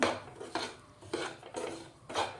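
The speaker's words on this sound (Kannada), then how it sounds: "ಅದೇ ಪ್ಯಾನಲ್ಲಿ ನಾನು ರವೆನ ಹುರಿತಾ ಇದ್ದೀನಿ." Semolina roasts in ghee over a low flame while a spatula scrapes the pan in about five slow, even strokes, dry and rasping, with only a faint sizzle underneath.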